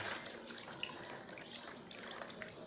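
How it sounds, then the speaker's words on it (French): A hand stirs water in a bath prepared for a purification ritual, producing faint, close sloshing and trickling with a few small drips over nearly three seconds. No one speaks. "Vous allez remuer l'eau."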